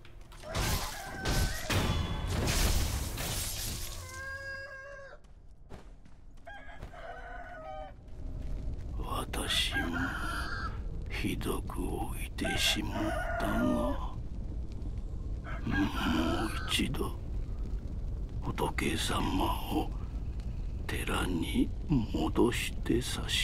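A rooster crows in the video game Sekiro: Shadows Die Twice, with a harmonic call near the start over game sounds and thumps, followed by a long stretch of speech-like talk and ambience.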